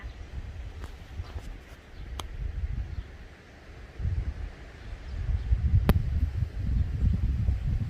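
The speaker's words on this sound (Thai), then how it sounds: "ทุกคนลมแรงมากวันนี้ ค่อนข้าง จะ แรง เนาะ" Strong wind blowing outside a house, heard from indoors as a low, steady rumble with gusts that swell and fade, plus a couple of faint sharp ticks, with no talking.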